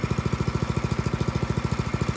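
A 196cc petrol engine on an OOGarden compact garden shredder idles with a fast, even, regular chugging pulse, close and steady throughout.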